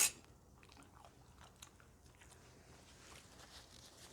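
Someone chews food close to the microphone outdoors at a grilled duck and larb breakfast, soft crunchy bites and mastication sounds that are faint and irregular over a quiet background.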